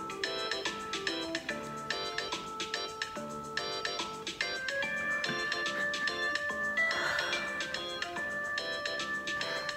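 A phone alarm tone plays a bright, bouncy chiming melody of quick repeated notes, steady and fairly loud throughout with no talking.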